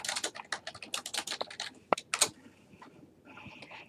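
Fingers typing on a computer keyboard, rapid uneven keystroke clicks in quick bursts, close and crisp, trailing off into sparse taps with no talking.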